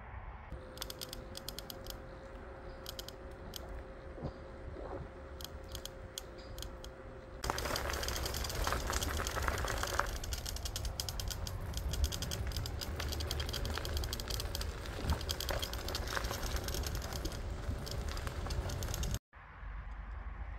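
A Ninebot F2 Pro electric scooter is ridden on a fairly flat road, and its folding joint creaks and clicks in quick irregular bursts over a steady wind and rolling hiss that grows louder partway through.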